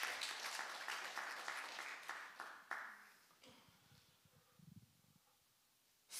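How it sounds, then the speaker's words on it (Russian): A church congregation claps for a few seconds, moderately loud and then trailing off into quiet room noise with faint shuffling and a murmur. "Let's give the Lord a round of applause."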